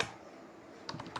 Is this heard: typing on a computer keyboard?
yes